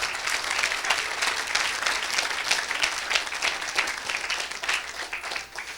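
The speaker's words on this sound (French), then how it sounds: "Est-ce qu'on peut acclamer?" A church congregation at a Sunday worship service breaks into sustained applause, a dense, even wash of many hands clapping that continues throughout with a few faint voices mixed in.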